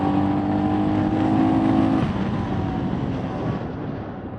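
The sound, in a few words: motorcycles of a group of bikers riding past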